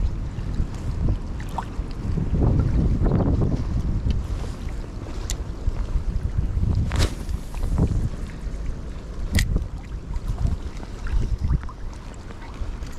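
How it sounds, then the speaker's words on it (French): Strong wind buffets the microphone in heavy, roaring gusts beside the water during lure fishing, with occasional sharp knocks and rustles over the steady rumble. "Il y a tellement de vent"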